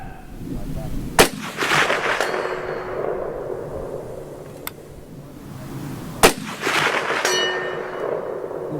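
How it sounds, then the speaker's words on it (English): A Romanian M56 SKS fires 125-grain bullets at a steel target out to about 240 yards: two sharp, loud gunshots several seconds apart, each followed by a faint, lingering metallic ring from the distant steel. "Ooh, nice loud ring that time."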